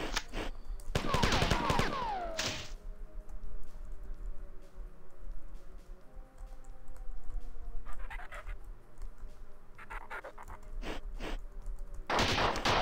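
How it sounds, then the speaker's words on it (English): Assault rifle fire in the video game Marathon Total Carnage, with bursts of rapid automatic shots near the start and brief volleys again around the middle and end, separated by quieter stretches of game ambience. "I'm gonna start using up my assault rifle ammo here."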